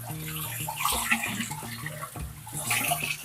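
Sorrel (gongura) leaves being washed in plain water, with close splashing and sloshing in short bursts.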